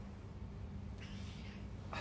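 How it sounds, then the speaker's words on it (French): A cat meows indoors, a short nasal call rising above steady low room noise, with a brief second sound at the very end. "il est insupportable ce chat"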